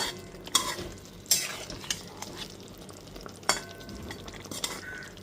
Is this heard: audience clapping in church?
no